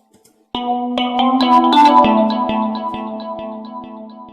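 Music with heavy reverb applied in the LMMS mixer: sustained tones entering one after another, each note ringing out and decaying into a lingering wash of echo.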